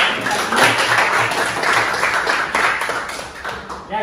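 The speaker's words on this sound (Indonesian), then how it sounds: "Tepuk tangan dulu buat" A group of people in a class setting breaks into clapping, a loose, moderately loud patter of hands that carries on for a few seconds with a voice faintly underneath.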